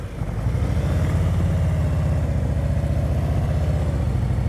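A motorcycle engine held at steady elevated revs during slow, crowded-space riding practice with stops every few feet, a continuous loud low drone running throughout without voices.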